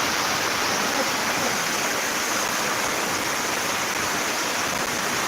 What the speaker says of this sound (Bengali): বৃষ্টি প্রায় এক ঘন্টা ধরে হচ্ছে বৃষ্টি থামার নামই নাই